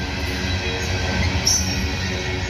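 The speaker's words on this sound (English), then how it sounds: "This is a loaded coal train." Loaded coal train rolling past, a loud continuous rumble of wagons with steady wheel noise and a faint high squeal, no voices.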